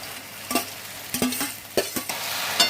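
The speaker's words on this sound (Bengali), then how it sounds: "আমরা যে ভেজে রেখেছিলাম কাজু কিশমিশ বাদাম গাজর ক্যাপসিকাম, সেগুলো এবার আমি ঢেলে দিচ্ছি" Fried cashews, raisins, nuts, carrot and capsicum are tipped into a pan of sago pulao, giving a soft sizzle with several distinct clattering stir and scrape hits, close and without speech.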